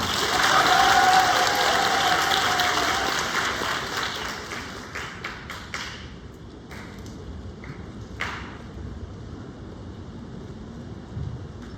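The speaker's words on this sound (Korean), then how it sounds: "큰 박수 부탁드립니다." A school symposium audience applauds before a student keynote: a full burst of clapping from many hands that thins out into scattered, separate claps and fades toward silence.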